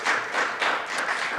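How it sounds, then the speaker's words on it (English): Applause from the audience at a county commissioners' meeting honoring a lodge of the Order Sons and Daughters of Italy, a steady wash of clapping held for over a second with no talk over it. "Give that a round of applause."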